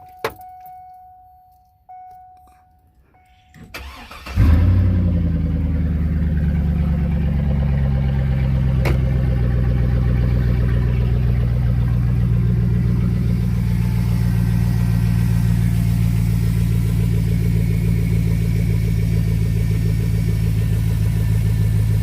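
A pickup truck with a reduced engine power fault and an unplugged sensor: keys jangle in the ignition, the starter cranks, then the engine catches and runs on with a loud, steady, slightly uneven idle drone, close by and with no talk.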